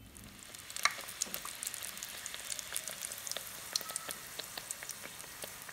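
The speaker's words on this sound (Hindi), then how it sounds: "इस तरह से मैं अब अपनी सारी कचौड़ियाँ बना के और फिर ऑयल में डालना शुरू करती हूँ।" Chana dal kachoris deep-frying in hot oil, giving a steady crackling sizzle with scattered sharp pops throughout, moderately quiet and with no talking.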